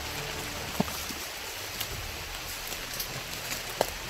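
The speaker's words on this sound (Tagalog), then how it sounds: "Lalong lumalakas yung ulan tol." Heavy rain falls as a constant dense hiss with a few scattered louder drips, steady and close, with no voices over it.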